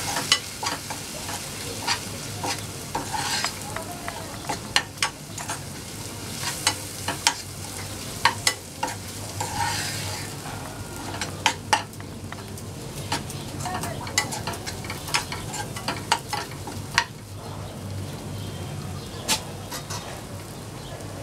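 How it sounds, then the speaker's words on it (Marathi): Coriander, cumin and garam masala powders sauté in a pan for a capsicum and gram flour dish, with a continuous soft sizzle under frequent clicks and scrapes of a spoon against metal. "याला छान परतून घ्यावं."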